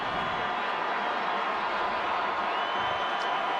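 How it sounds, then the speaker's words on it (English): A loud crowd at a high school football game roars in a steady, dense wash of noise, with no breaks and no clear individual voices standing out. "The crowd is loud."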